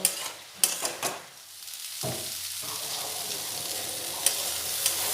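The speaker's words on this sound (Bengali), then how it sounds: "হলুদ গুঁড়ো দিয়ে আলু ফুলকপিটা পেঁয়াজ আদা রসুনের সাথে খুব ভালোভাবে ভেজে নেব" Potato and cauliflower frying with onion, ginger, garlic, salt and turmeric: a continuous close sizzle with sharp spatula clanks and scraping stirs, busier at the start before settling into an even hiss.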